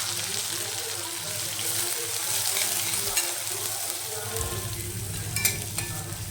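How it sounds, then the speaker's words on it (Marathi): Chopped onion sautés with cumin seeds in hot oil in a home kitchen pan, a steady close sizzle and crackle running throughout, with a deeper rumble joining in the last couple of seconds. "कांदा छान परतून घ्यायचा"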